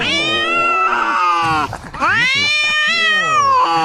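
A cat lets out long, loud, wavering meows and caterwauls close up, two drawn-out yowls split by a brief rough grunt.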